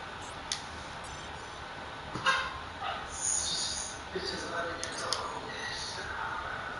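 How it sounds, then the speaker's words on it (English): A dog gives a few short yips and soft whimpers at moderate distance, mixed with brief higher whines, over steady background noise, with people talking nearby. "Yeah, I forgot you still had that dog."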